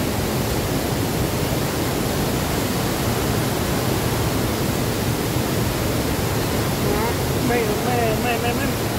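The Pa Ba waterfall, a murky-coloured cascade in Thailand, roars as a dense, constant wash of rushing water that fills the whole clip at close range, with faint bird chirps breaking through toward the end.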